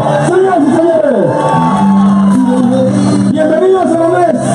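A loud, close crowd at a public rally in San Andrés, Colombia, welcoming presidential candidate Gustavo Petro, with massed shouts and whoops rising and falling in waves of voices that sound almost chanted.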